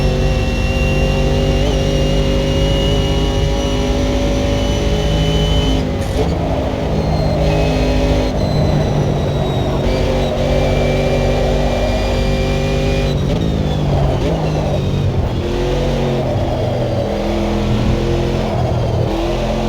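A car engine revs hard through roughly twenty seconds of sustained loud running, with pitch climbing and dropping at several gear shifts, close and continuous with no talking.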